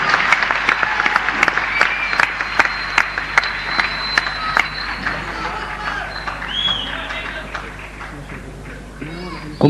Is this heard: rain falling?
no